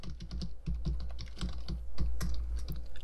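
Fast typing on a computer keyboard while writing PHP code, a close string of crisp key clicks in quick irregular bursts with brief pauses, and no talking over it.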